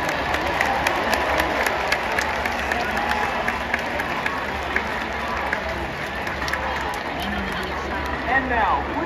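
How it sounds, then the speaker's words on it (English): Stadium crowd applauding and cheering for the NC State marching band's seniors at a senior night ceremony, a steady wash of clapping and voices sustained throughout with chatter mixed in. "Please give them a round of applause."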